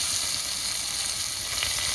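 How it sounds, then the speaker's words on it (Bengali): Garlic sizzles in hot oil with a steady, bright crackling hiss, close and continuous, with no talking, as spinach is being cooked. "এবার এতে আমি রসুন, পেঁয়াজ আর আলু একসাথে ছাড়বো, ছেড়ে একটু ভাজা ভাজা করবো"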